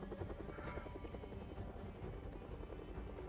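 Helicopter flying overhead in Project Zomboid, a continuous rhythmic rotor chop with engine drone, moderately loud and steady throughout, with no speech.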